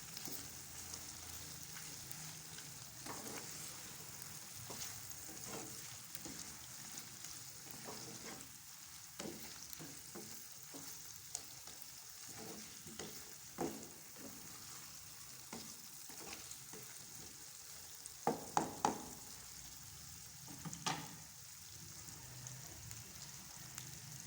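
Fried pickled chillies being stirred into potatoes in a pan, with a soft continuous sizzle of frying under scattered light scrapes and clinks of the spoon, fairly quiet and close.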